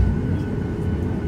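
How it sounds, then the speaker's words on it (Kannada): Steady, loud low-pitched roar and rumble of an airliner's engine heard from a seat beside it while taxiing toward takeoff, continuous with no talk. "full sound ಬರೋಕತ್ತೈತಿ engine"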